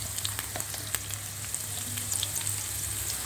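Chopped onion, ginger and garlic frying in a pan, a steady close sizzle with faint crackles running throughout, no voices.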